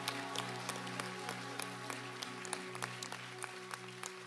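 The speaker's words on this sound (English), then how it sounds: "Let's give the Lord a clap offering." Steady applause from a church conference crowd, a dense patter of claps sustained throughout over a low humming background tone.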